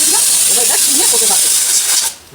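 A pressure cooker cooking raw mangoes lets out a loud, steady steam hiss close by. The hiss cuts off abruptly near the end.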